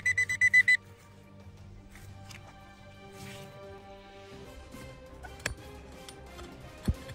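A treasure hunter's metal detector, sweeping near a stuck stone, gives a quick burst of about six loud, even beeps, then falls to a low background hum with a few faint clicks.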